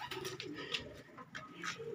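Pigeons coo repeatedly in soft, throaty bursts, close by, with a few light flutters between calls as birds are released.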